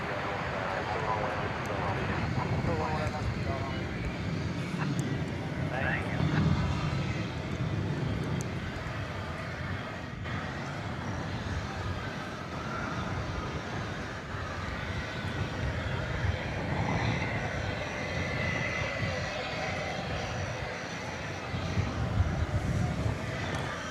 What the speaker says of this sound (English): Looks like American Flight 2806 off to Minneapolis, St. Paul. It's a 737-800.